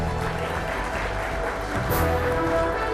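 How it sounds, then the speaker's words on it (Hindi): An audience applauds for award winners at an Indian awards ceremony, a steady, dense clapping that continues throughout at an even, moderately loud level. "एक बार जोरदार तालियां हो जाए हमारे सभी अवॉर्डीज के लिए"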